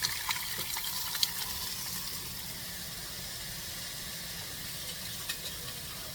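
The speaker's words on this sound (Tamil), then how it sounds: "அதில் கொஞ்சம் தண்ணி ஊற்றிக்கிறேன்." Water pours steadily into a pot of fish curry, a soft continuous hiss and gush with faint sizzling, fairly quiet and close, no voices.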